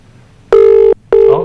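A telephone rings twice on a call being answered, two loud electronic ring bursts separated by a short pause, the second trailing into faint background noise.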